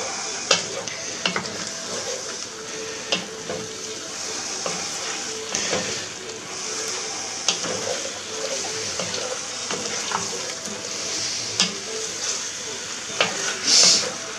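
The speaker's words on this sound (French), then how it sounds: "on va cuire cette farine. Hein, donc à bien remuer" Flour cooking in a pan while being stirred for a Corsican wild boar stew, a continuous close sizzle with repeated scraping strokes of the spoon, and someone talking over it at times.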